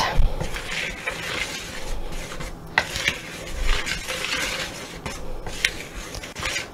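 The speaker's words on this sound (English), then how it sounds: "Just gonna stir all that up." Cream biscuit ingredients, including salt, being stirred in a bowl, with a steady run of scraping and clinking strokes carrying on throughout, close and moderately loud, with no voices.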